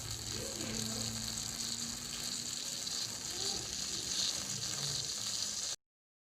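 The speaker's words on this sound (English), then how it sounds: "I am taking the leaf and boiling it for few minutes." A leaf boiling in water in a glass beaker during a school science experiment, with a steady bubbling sizzle and simmer that runs evenly and close, without talk, until it stops abruptly.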